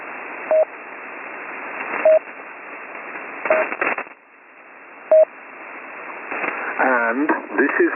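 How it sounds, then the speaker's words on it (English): A single short Morse code dit, a pure beep tone, sounds a few times through narrowband radio-style audio, with someone talking in between. "this is what a dit sounds like."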